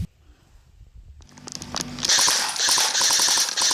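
Airsoft guns firing full auto, an AK47 Cybergun and a Sig Sauer Virtus: after a few scattered clicks, a rapid, continuous burst of sharp cracks builds to loud, close automatic fire.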